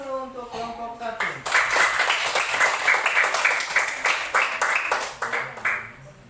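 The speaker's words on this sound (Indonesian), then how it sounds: "Tepuk tangan dulu untuk kelompok 1." Classroom applause for the first student group, a burst of many hands clapping that starts after a teacher's voice and keeps going in an uneven, lively patter before fading.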